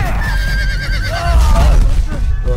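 A horse neighs loudly and close in Game of Thrones, a wavering whinny lasting about two seconds over low rumbling background sound.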